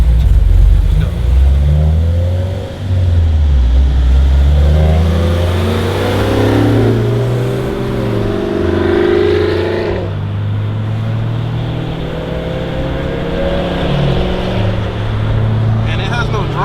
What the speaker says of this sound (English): Give him a little run through the gears?